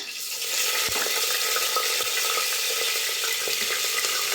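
Green chillies hit hot oil in a frying pan, giving a steady, close sizzle with a few soft clicks of a utensil stirring.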